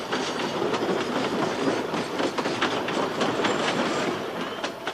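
A train rumbles past steadily on the railway through the Urubamba valley in Peru, with rhythmic clicking of wheels over rail joints and a dense, loud roar throughout.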